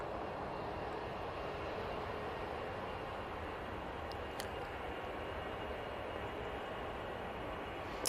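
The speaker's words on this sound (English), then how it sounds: "A321 CEO for Jet2 now on the roll." A Jet2 Airbus A321ceo rolls for takeoff at Manchester Airport, a broad steady engine roar heard from a distance that holds evenly throughout.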